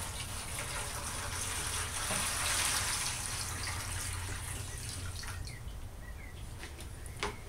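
Water pours steadily into a pot for making rawhide glue, a continuous close splashing gush without pauses.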